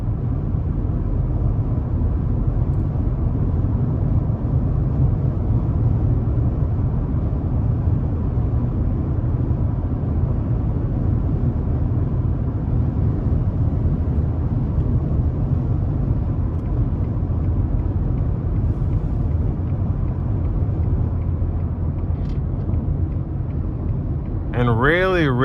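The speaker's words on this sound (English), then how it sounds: "Really good for a V8 engine, cruising at almost 80 miles an hour." A 2021 Ford F-150 XL regular cab with a 5.0 V8 and 10-speed cruising near 80 mph on the interstate, a steady low engine and road drone throughout with a voice speaking over it.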